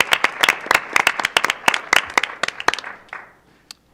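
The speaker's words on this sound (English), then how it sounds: "let's give everyone a round of applause" Applause at a Board of Education meeting: a room of people claps in a burst of sharp overlapping hand claps that thins out and fades to a few last claps and near quiet.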